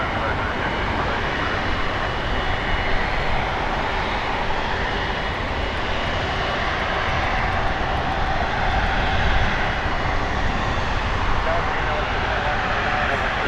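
An Air Canada Airbus A330-300 heavy jet departing from Toronto Pearson, a loud, steady broadband engine roar that holds throughout with no break, under occasional talk.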